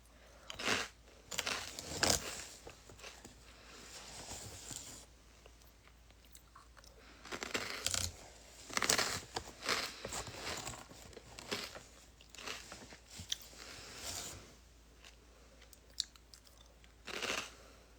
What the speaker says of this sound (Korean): 과자 씹는 소리 때문에